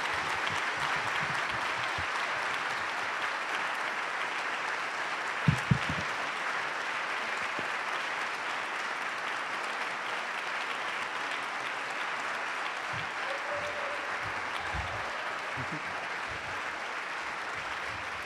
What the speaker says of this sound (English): Hope you all join me in welcoming Dacher and Michael to the stage to talk about awe.